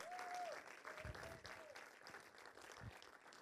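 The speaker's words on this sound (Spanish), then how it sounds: "démosle un aplauso al Señor" A church congregation claps together during a worship service, a faint, uneven patter of many hands lasting a few seconds, with a soft sustained tone and voice drifting underneath.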